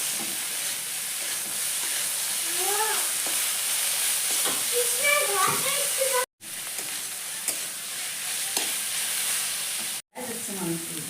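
Spices fry with turmeric and salt in a pan, a continuous close sizzle with faint stirring, light chirps in the background and two sudden brief dropouts.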